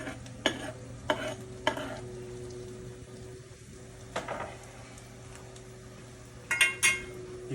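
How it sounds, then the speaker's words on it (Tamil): Ginger tossed into a hot pan in a Tamil home kitchen, with a light steady sizzle under several sharp clinks and scrapes of a spoon stirring against the metal pan. "இப்போ கொஞ்சம் இஞ்சி போட்டுக்கோங்க, அது நம் உடல் நலத்துக்கு நல்லது."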